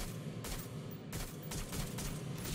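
Rapid bursts of gunfire in the Watch Dogs: Legion video game crack out in repeated volleys over a steady, dense background din, loud and close throughout.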